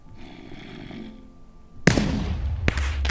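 Rocket-launcher-style explosion effect from the Minecraft PVPGuns+ plugin: a faint hum gives way to a sudden loud blast with a rumbling tail, then a second sharp crack shortly after.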